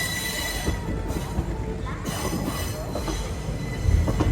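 A passenger train of the Narasapur Hubli Amaravathi Express pulls in at a station platform, its wheels squealing continuously and high-pitched over a low rumbling rail clatter, with a heavier thump near the end.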